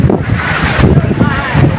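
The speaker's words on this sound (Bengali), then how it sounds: "এই দেখতে পাচ্ছেন প্রচণ্ড ঝড়" Strong storm wind gusts buffet an open vegetable market, a loud, rough roar with microphone wind noise throughout, while a person speaks over it.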